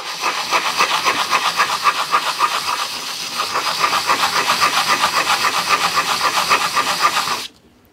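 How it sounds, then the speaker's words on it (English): Fine-grade sandpaper rubs over a Lixada titanium alcohol stove in steady, rhythmic back-and-forth strokes, close and fairly loud, stopping abruptly at the end. "then you can go move down to, or up to a finer grade of sandpaper"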